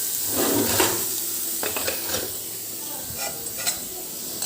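Sabudana khichdi being mashed and stirred in ghee in a Wonderchef kadai, a soft scraping and faint sizzle with a few sharper clicks of the spoon against the pan, close and steady with no talking.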